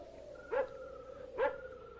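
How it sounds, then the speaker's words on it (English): Two distant dog barks about a second apart, set against a steady tonal hum, on a night hillside near a vault beyond a line of copper beeches in a radio mystery drama. "That barking dog."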